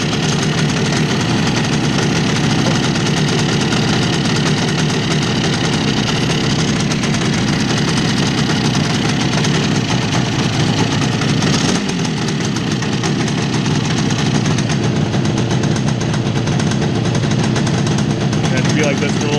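A 1966 Bridgestone 175 motorcycle engine runs in gear, a steady, loud, close mechanical rattle and hum that continues without pause throughout.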